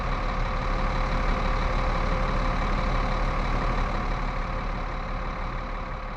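Mercedes G8 coach engine idling in Euro Truck Simulator 2, a steady low diesel rumble with a constant hum, loud and unbroken, with no voices.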